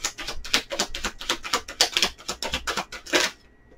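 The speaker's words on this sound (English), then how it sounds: "Let's do one more shuffle here and see what is coming up." Tarot cards shuffled by hand in a rapid run of crisp riffling flicks, close and fairly loud, ending abruptly into near silence with no speech.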